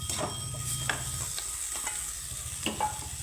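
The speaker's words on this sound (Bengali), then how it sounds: "মশলার সাথে সুন্দর একটু ভেজে নেব আর এখন দিয়ে দেব ব্রেড করে রাখা পনির" Paneer frying with spices in a pan, a steady sizzle with intermittent scraping stirs and small clinks, heard up close with no talking.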